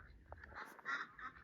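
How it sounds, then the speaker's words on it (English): Faint quacking of ducklings, a few soft honk-like calls scattered through the moment, quiet and somewhat distant against a low background. "Suddenly he heard a faint quacking sound."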